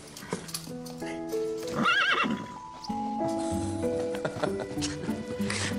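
A horse gives a clear, wavering whinny near the middle, framed by hoof clip-clops and soft stable movement, with a gentle music bed running underneath.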